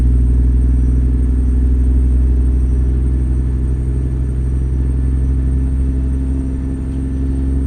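A super heavy haul truck in American Truck Simulator drones with a deep, steady engine rumble that dips slightly near the end.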